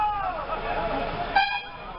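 A vehicle horn honks briefly and near under a man's speech during an outdoor public address, while steady traffic noise runs throughout.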